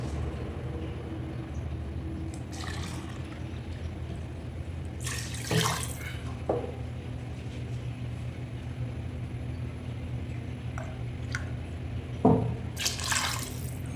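Water trickles and drips into a pot while mutton biryani is being prepared, a faint steady pour with a few brighter splashes, quiet and without talk.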